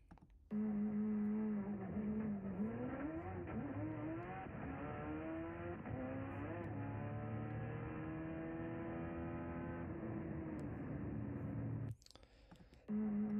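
An Evo 8 race car with a Motec M1 engine revs hard and climbs through rising pitch, tires breaking loose, loud and sustained for about eleven seconds, then cuts off abruptly, with a brief burst of noise after.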